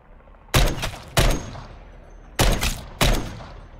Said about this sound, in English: This is the Barrett 50 cal.